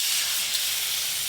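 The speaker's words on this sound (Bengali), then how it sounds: "মশলা যাতে পুড়ে না যায় অল্প একটু জল দিয়ে দেবো" A little water poured onto spices frying in oil in a pan for a Bengali fish curry, giving a sharp, steady sizzling hiss that stays close and loud for the whole moment.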